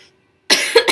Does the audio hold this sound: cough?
yes